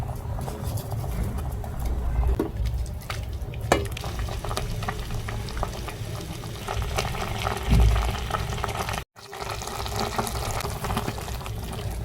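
A spoon scrapes and stirs through a thick rice and egg stew in a pot, steady clinks and wet churning with a low simmering bubble underneath, one brief pause near the end.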